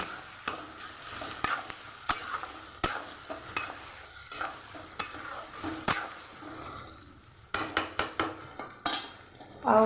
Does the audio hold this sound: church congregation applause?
no